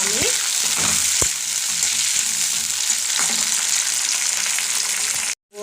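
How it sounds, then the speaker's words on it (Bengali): Chopped tomato hits onions already fried deep red in a pan, giving a loud, dense, continuous sizzle with a few sharp utensil knocks near the start before it cuts off abruptly at the end. "পেঁয়াজটা একটু বেশ লাল ভাজা ভাজা হয়েছে, এর মধ্যে আমি একটা ছোটো মাঝারি সাইজে যে টমেটোটা কেটে রেখেছিলাম সেটা দিয়ে দিলাম"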